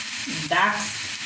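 Food sizzles steadily in a hot pan while cooking homemade chicken Manchurian, a continuous close hiss with a brief louder stir-like burst partway through.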